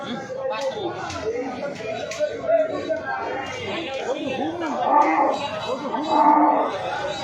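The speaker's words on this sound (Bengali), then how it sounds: "আর একটু বড় গরু রয়েছে যে খুব গরুর দাফাদাফি চলছে" Cattle low and moo repeatedly amid a crowded, chattering cattle and goat market at Patharghata, Bangladesh, with people talking nearby throughout.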